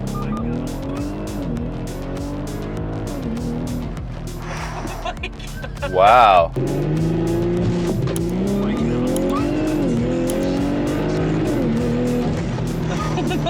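A tuned 750-horsepower Audi accelerates hard with its tires spinning and squealing, the engine roaring loudly and continuously with a brief sharp burst midway, while occupants exclaim over it.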